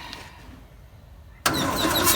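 The engine of a 1958 pressed-bumper VW panel bus, sitting unused for 50 years, cranks over: quiet background, then a sudden loud, steady churning roar that continues close by without talk.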